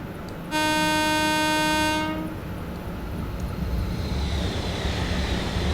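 A Voyager train sweeps past in Train Simulator 2020, its two-tone horn blaring loud and close for about two seconds before a steady rumble and hiss of the passing cars carry on.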